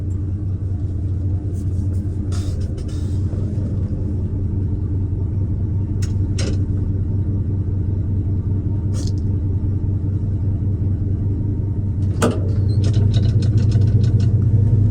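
Loud, steady low engine rumble of a truck idling nearby, with a few brief rattles and squeaks, growing slightly heavier toward the end.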